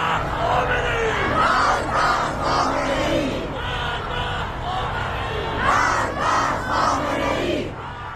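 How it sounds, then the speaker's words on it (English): A large street crowd of protesters in Iran chants political slogans in unison, a dense, loud roar of many voices rising and falling in rhythmic waves throughout. "Now pay close attention to what this crowd is doing. They are shouting death to the dictator, death to Khamenei."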